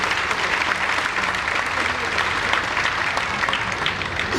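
Large crowd at a Hindi poetry recital (kavi sammelan) at Lal Qila applauds, a loud, continuous wash of clapping that holds evenly throughout, with some voices mixed underneath.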